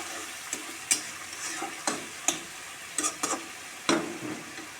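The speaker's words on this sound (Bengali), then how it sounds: "জল দিয়ে খুব ভালো করে কষিয়ে নেব" Fish curry masala with ginger paste and a splash of water is sautéed in a pan. A soft background sizzle is punctuated by sharp spatula scrapes and taps at irregular intervals.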